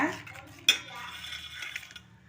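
Rava cake batter being stirred by hand in a bowl after milk is poured in, giving soft scraping with a single sharp clink of utensil on the bowl near the start, close up and fairly quiet with no talking.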